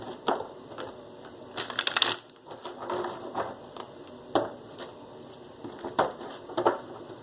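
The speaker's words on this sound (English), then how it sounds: "Let's do 2 more shuffles here." Tarot cards are shuffled in several short riffling bursts with brief pauses between them, close and crisp, with no voices.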